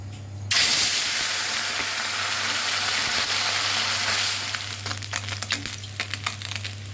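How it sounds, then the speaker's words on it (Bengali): Amudi fish, rubbed with salt and turmeric, frying in hot oil, with a steady loud sizzle throughout and scraping clatter near the end as the pieces are lifted out. "মাছগুলো ভাজা হয়ে গেছে তুলে নিচ্ছি"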